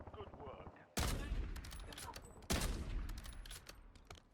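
A high fire-rate SMG fires in Warzone on the Rebirth Island map in two loud, sharp rapid bursts about a second and a half apart, with a fast rattling tail after each, under faint background talk.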